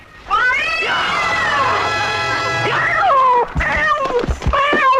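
A cat in a South Indian horror film gives a long, loud, wailing meow, then several shorter rising yowls, close up and harsh against a faint background.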